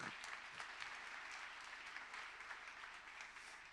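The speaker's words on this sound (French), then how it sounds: "Vous pouvez l'applaudir." Steady applause from an audience, dense clapping sustained throughout at an even level with no voices over it.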